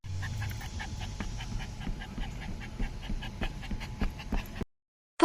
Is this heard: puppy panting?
yes